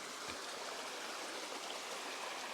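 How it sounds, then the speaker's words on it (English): A creek on a mountain trail near Addie Gap flows steadily, a constant broadband rush of water without talking. "Beautiful creek, really."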